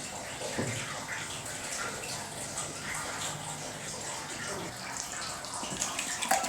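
Water runs steadily from a tap while carpets are washed indoors in an apartment, a continuous broadband splashing wash that stays close and fairly loud throughout, with a few faint clatters and no clear speech.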